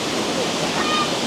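Waterfall roaring from directly beneath the falls at Baizhangji in China, a dense, loud, unbroken wash of falling water filling the whole moment.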